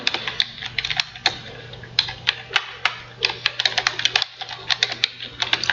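A name is typed on a computer keyboard to create a company in Tally accounting software. Close, quick, uneven key clicks come in bursts with brief pauses, over a low steady electrical hum and no talking.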